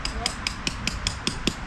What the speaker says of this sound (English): take nails and a hammer, as you hear in background.